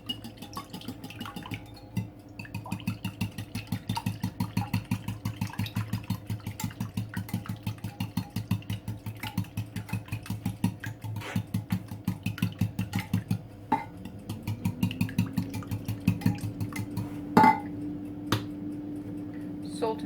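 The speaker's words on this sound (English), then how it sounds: "Whisk." A whisk beats cauliflower and spinach quiche filling in a bowl with a fast, even run of light clicking taps. The strokes repeat steadily and close by over a low background hum.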